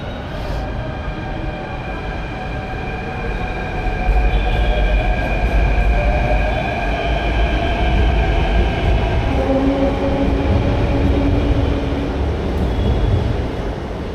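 Jaipur metro rake pulling ahead past shunting lines to change platforms, a close, loud rolling rumble that builds partway through, with whining motor tones and light wheel squeal and no voices.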